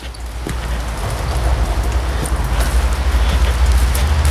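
Steady rain falls outside an abandoned villa, a dense close patter that swells slightly louder over a few seconds, with no voices.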